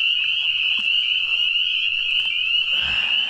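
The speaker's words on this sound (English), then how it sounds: "They get so loud over here, they start laughing at you." Frogs croaking loudly at a trout fishing spot, a dense, continuous high trilling chorus filling every moment, close and unbroken, with a few faint knocks underneath.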